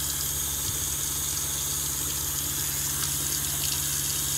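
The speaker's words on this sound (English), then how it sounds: "Yeah, plenty of hot water going on here." Hot water runs from a tap in a shuttle bus RV conversion, a loud, steady rushing stream close by that continues without a break.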